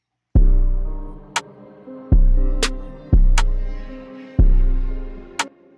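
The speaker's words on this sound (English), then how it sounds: "the first part of the piano sounds like this" Four sustained piano notes from a sample in an FL Studio trap beat, each struck firmly and left to ring out and decay, with faint clicks in between, played slowly and alone.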